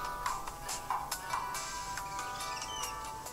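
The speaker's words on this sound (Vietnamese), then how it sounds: "Điện thoại anh kìa." A mobile phone ringtone plays alone, a repeating bright electronic melody with regular pulses over a steady background hiss, fairly close and moderately loud.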